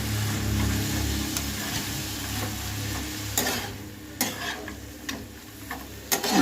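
Chopped banana flower stirred in a frying pan, a steady close sizzle with several sharp scraping knocks of the spoon against the pan, no voices.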